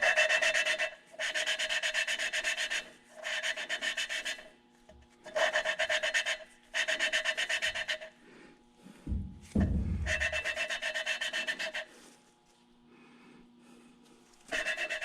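A Mazdaspeed 3 engine valve is lapped against its seat with a suction cup tool, giving close, loud gritty rasping strokes in repeated bursts separated by short pauses, with a brief knock partway through.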